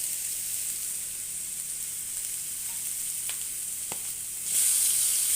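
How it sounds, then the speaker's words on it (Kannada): Tomatoes frying in a hot pan for fried rice, a steady close sizzling hiss with a couple of brief stirring clicks, growing louder and brighter near the end, with no voices. "ಇವಾಗ ನಾನು ಟೊಮೊಟೊ ಹಾಕೋತಾ ಇದ್ದೀನಿ."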